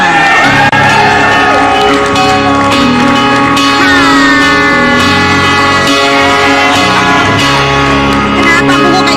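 A studio audience on an Indonesian talk show greets a guest with loud cheering, whoops and shouts, a continuous roaring crowd with music-like tones running underneath throughout.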